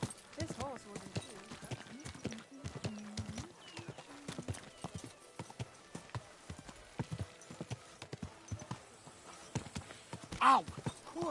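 Horse hooves clip-clop steadily on a street in the Kingdom Come 2 video game, a close, rhythmic patter of hoofbeats with a whinny near the end, while game characters talk over it.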